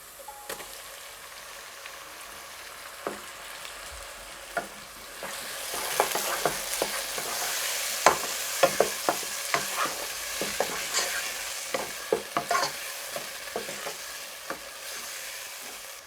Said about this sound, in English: Now I am going to sweat my tomatoes.